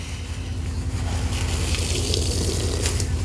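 Running water while washing, a steady close splashing hiss from a tap filling a sink, alone without talk.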